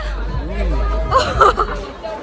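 Packed crowd at the Santosh Mitra Square Durga Puja in 2024, heard as a close babble of overlapping chatter with scattered raised voices and a low rumble underneath, moderately loud and continuous.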